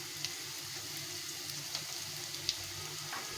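Rice and potatoes fry together in a pan with a quiet, steady sizzle, broken by a few faint sharp pops and ticks, and no one speaking.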